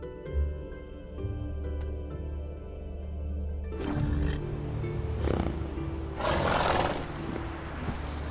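Roach, the horse in the video game The Witcher 3: Wild Hunt, snorts and whinnies with hoof clatter over a steady musical drone, the animal sounds rising loud and close in the second half.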